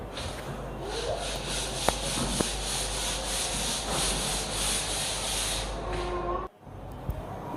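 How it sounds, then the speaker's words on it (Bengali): A wall is rubbed down before painting, producing a loud, continuous close-up sanding rasp that breaks off briefly near the end and then resumes. "আমি এখন দেয়ালটা খুব সুন্দরভাবে ঘষে নিব"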